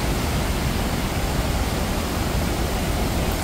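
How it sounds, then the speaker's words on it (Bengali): Usri waterfall, where the stream pours about 40 feet down a rocky gorge in three separate streams, producing a loud, unbroken roar of rushing water that stays steady from start to finish. "উসরি জলপ্রপাতটি 40 ফুট গভীরে 3টি পৃথক ধারায় পাহাড় থেকে নেমে এসেছে"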